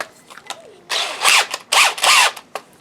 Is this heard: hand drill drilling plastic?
yes